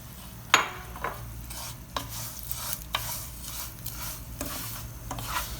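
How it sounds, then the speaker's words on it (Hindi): Vermicelli fries in ghee for sheer khurma, stirred with repeated scraping strokes against the pan roughly once a second over a low, steady sizzle, close and without voices. "इसमें हम थोड़ी सी सवैयाँ फ्राई कर लेंगे।"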